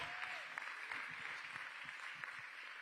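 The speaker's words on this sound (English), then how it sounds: "let's give them a huge round of applause for bringing you all here today" Conference audience applauding, a faint, distant spread of clapping that holds steady for a few seconds.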